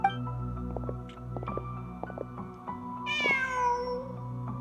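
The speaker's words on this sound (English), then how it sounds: "Just a cat." A cat in the video game Genshin Impact gives a single clear, rising meow near the end, over a low, steady in-game ambient hum.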